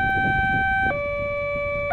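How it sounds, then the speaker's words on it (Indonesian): The electronic warning siren at level crossing JPL 191 near Cangkring station, Cirebon, sounding for an approaching train: a loud, steady two-tone wail that drops to a lower pitch about once a second, with faint road rumble beneath. "Kalau diperhatikan mengikuti irama suara sirine ya."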